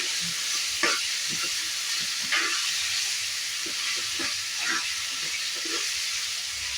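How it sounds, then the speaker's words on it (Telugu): Eggplant sizzles and fries in a pan of dry fish curry while it is stirred, a steady close hiss broken by repeated soft scraping strokes of the spoon. "ఇప్పుడు నేను వంకాయలు వేసుకుంటున్నా. వంకాయలు వేసుకొని ఇలా బాగా మిక్స్ చేసుకోవాలి."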